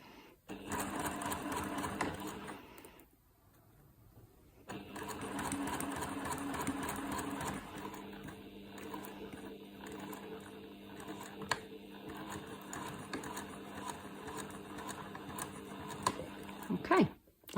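Close, steady buzzing chatter of a sewing machine stitching a seam in fabric for a small fold-over basket, running continuously with one brief pause and a few clicks near the end.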